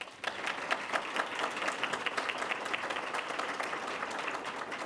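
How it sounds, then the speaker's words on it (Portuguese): Steady applause from an audience at an education event, dense rapid clapping from many hands at moderate distance, sustained without voices. "Uma salva de palmas agora para Rosivaldo Fernandes Almeida"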